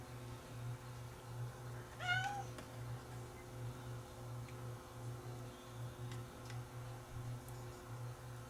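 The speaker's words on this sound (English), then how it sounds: "The cat's right below my feet." A cat gives a single short meow close by at floor level in a workshop, over a steady electrical hum and a regular ticking pulse.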